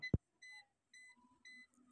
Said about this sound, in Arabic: هي بتدي صفارة كده او انذار لما بتخلص، وبتسمعي صوتها وبتفصل لوحدها كمان